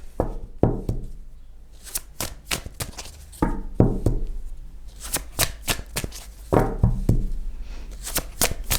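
A deck of cards is shuffled and drawn close up: sharp riffling bursts, snaps and soft taps come in uneven clusters, with no talking over them.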